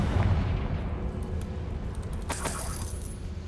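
A Confringo blasting spell is cast in Hogwarts Legacy, a sharp burst with crackling, shattering high-end debris near the middle, set over a steady low game rumble.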